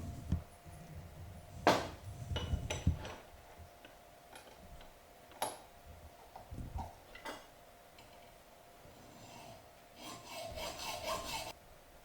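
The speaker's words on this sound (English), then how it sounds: "Cut it with a hacksaw." A hacksaw cutting a part for a camera trap build, faint irregular rasping strokes and small clicks with a few louder scrapes, close and quiet with no talking.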